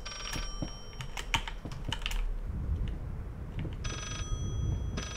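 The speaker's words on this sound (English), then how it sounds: "I hear another phone." A telephone rings in two short electronic bursts, one at the start and one near the end, in the horror video game Layers of Fear, with keyboard clicking and typing running through the middle.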